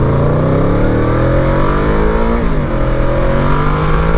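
A Yamaha VMAX motorcycle engine revs hard and accelerates along a straightaway. The engine is loud and close, and rising harmonic tones climb steadily as it pulls through the gears with no speech.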